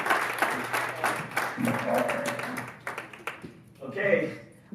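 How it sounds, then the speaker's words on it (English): Audience applause at a business conference session, a loud burst of many hands clapping that rises and then thins out, with voices and a few cheers mixed in. "Big round of applause for Chris."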